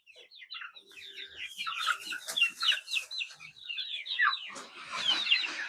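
A small flock of multicolored young chickens clucks and chirps nearby, a busy, overlapping chatter that runs steadily with no voices over it.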